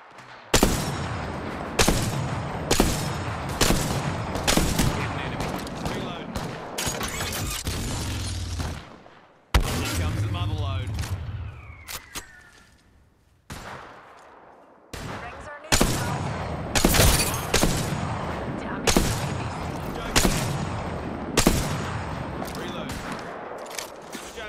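Video game gunfire comes in loud, sharp bursts of rapid shots, repeating in volleys with brief quieter gaps where other game sounds and a voice come through.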